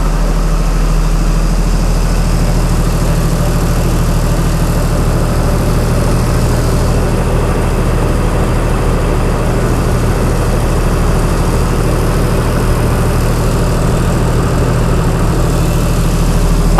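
A Chrysler Slant 6 generator engine idles with a steady, low, even hum, running close and unchanging throughout.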